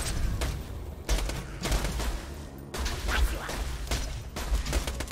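Bursts of gunfire in Borderlands 2, several loud rapid volleys separated by brief pauses, with crashes and impacts mixed in.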